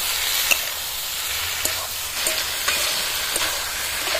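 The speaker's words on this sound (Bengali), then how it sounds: "এবার বেগুনগুলো দিয়ে দেবো, এরা কাঁচা লঙ্কা দিয়ে দিচ্ছি" Steady sizzle of brinjals and green chillies frying in half-cooked spice paste for a Bengali small-fish curry with potato, with a few sharp scrape or clink accents from stirring spread through; no voices.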